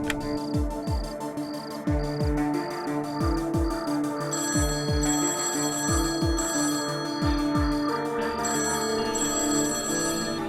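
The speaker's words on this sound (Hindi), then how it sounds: "Naina, please please please phone उठाओ, प्लीज।" A telephone rings repeatedly in a home in a Hindi drama series, the bright ringing bursts recurring in a steady pattern over soft background music, with no talking.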